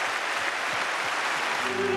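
A church congregation filling a sanctuary applauds a concert duet, a steady dense wash of clapping that holds evenly throughout, with a faint low tone entering near the end.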